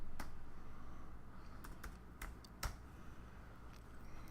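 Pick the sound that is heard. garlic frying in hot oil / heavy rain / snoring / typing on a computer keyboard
typing on a computer keyboard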